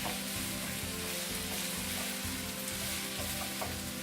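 White onions sauté over high heat for a mutton marinade, producing a dense, constant sizzle close by, with a few light scrapes of stirring and no voices.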